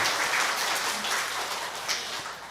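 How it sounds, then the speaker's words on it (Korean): A church gathering's audience claps after a group exercise song, a dense, loud burst of applause filling the short moment with a few faint voices beneath. "박수!"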